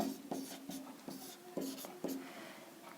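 Pen scratching on paper while writing out a geometry solution, a close series of short strokes with rhythmic scrapes about every half second over faint room noise.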